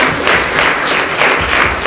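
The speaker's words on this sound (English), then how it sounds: "A big round of applause for all the office bearers" Loud, steady applause from an audience at an overseas alumni chapter launch in Singapore, greeting the newly named office bearers; dense clapping fills the whole stretch without voices.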